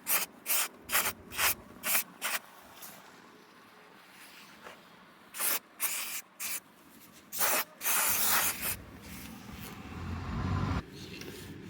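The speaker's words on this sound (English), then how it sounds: "a little bit of brake cleaner, I think." Brake cleaner sprays from an aerosol can onto rusted metal during rust repair on a Mercedes W126, coming as a quick series of short, loud hissing bursts followed by a few longer sprays.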